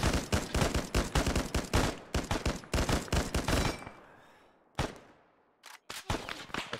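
Rapid machine gun fire in the military shooter Arma, long bursts of close, sharp shots in quick succession, then a pause and a few more isolated reports.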